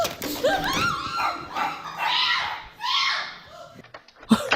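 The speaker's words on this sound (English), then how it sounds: "No barking. No barking." Dog yipping, whimpering and barking in agitated bursts outdoors near a hawk, fairly close and loud, with some voice-like yelps mixed in.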